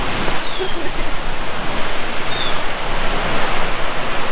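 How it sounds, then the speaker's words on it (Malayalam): Thooval waterfall in Idukki roars as a dense, steady rush of falling water, loud and unbroken, with faint voices underneath. "വാട്ടർഫാളിൻ്റെ ഒരു വ്യൂ ഇതാണ്"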